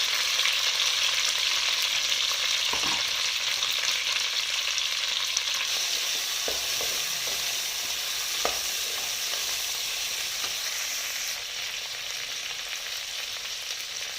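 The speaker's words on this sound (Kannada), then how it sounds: "ಇಲ್ಲಿ ನಾನು ಹೆಚ್ಚಿಟ್ಕೊಂಡಿರುವಂಥ ಬೆಂಡೆಕಾಯಿನ ಹಾಕ್ಬಿಟ್ಟು ಚೆನ್ನಾಗಿ ಫ್ರೈ ಮಾಡ್ಕೋತೀನಿ." Chopped okra and curry leaves fry for sambar with a continuous hiss, broken by a few soft knocks of a spoon stirring the pan, close and steady, with no talking.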